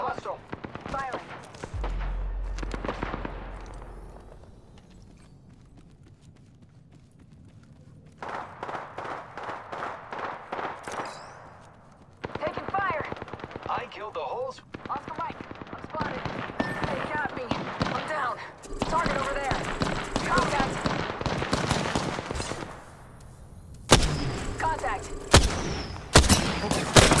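Gunfire rings out in the video game Apex Legends in bursts of rapid sharp shots, some fast automatic strings and some single cracks, with quiet gaps between and game voice callouts heard between the volleys.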